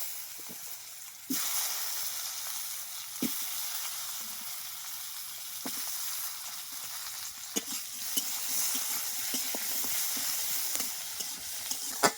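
Taro pieces drop into hot oil after a spice tempering, and a loud, bright sizzle bursts up and holds steady, dotted with sharp pops and occasional clinks of a utensil.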